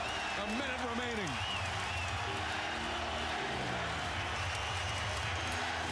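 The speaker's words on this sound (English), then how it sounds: "The crowd rises as one." Spectators at a Suns versus Lakers playoff basketball game rise and applaud, a steady wash of crowd noise and clapping beneath continuous talk.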